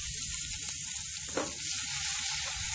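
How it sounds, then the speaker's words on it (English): Cumin tempering hisses steadily in hot oil as onions for a vegan thali are dropped in, a brief burst rising over the continuous close sizzle. "Just before it starts burning, we're going to add the onions."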